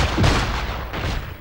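Gunfire in the video game Fallout: Brotherhood of Steel, a couple of loud booming shots with a rumbling echo tail, heard alone without talk.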